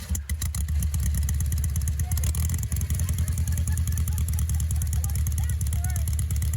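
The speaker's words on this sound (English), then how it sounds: "There is just nothing like the sound of a 4-cam motor." A Porsche 356 Carrera Speedster four-cam engine running nearby, a loud steady mechanical clatter and rumble with a brief dip and rev partway through, continuing throughout.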